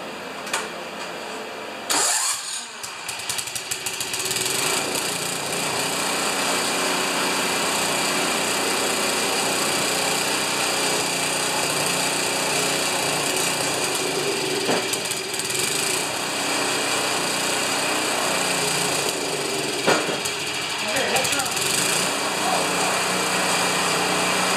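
A John Deere TRS 24 snowblower engine runs steadily with its traction drive engaged, a loud, continuous small-engine drone close to the mic, briefly surging near the start and holding an even buzz throughout.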